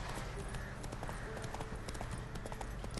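Steady galloping hoof beats from a horse in The Witcher 3, a rapid continuous clip-clop rhythm over dense game ambience, with no voices.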